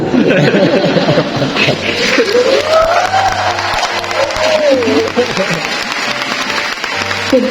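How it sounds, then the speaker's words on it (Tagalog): Applause from a crowd at a civil engineers' oath-taking ceremony, sustained clapping under a speaker's amplified voice and light crowd murmur. "since this morning, si Dr. Romeo Estanyero has been receiving thunderous applause"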